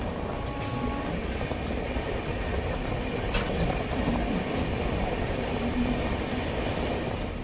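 Bidar–Machilipatnam SF Express (12750) rolling into Vikarabad Junction, a steady broadband rumble of wheels and carriage noise heard from onboard, continuous and moderately loud throughout with no talk.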